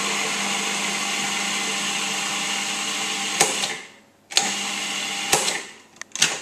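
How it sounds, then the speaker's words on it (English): A Cuisinart food processor chopping vegetables to a rice-like consistency, a steady loud motor whir that runs continuously, then cuts out and restarts in several short pulses at the end. "let the machine chop it to this so it looks like rice"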